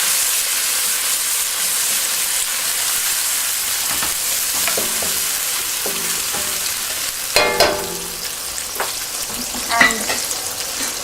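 Onion paste fries in a pan with a steady sizzle, and a spoon scrapes and stirs it in a few clustered bursts toward the end while the hiss of frying carries on underneath.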